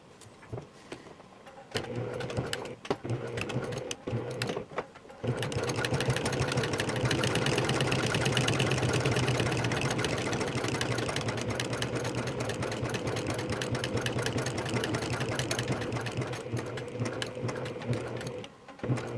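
A sewing machine stitches pants pockets at a quarter-inch seam for Simplicity pattern 8056. After a few short starts it settles into a long, steady, loud whirring run close by, with no talk.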